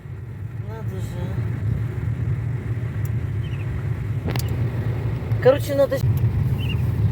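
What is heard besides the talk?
car driving on the road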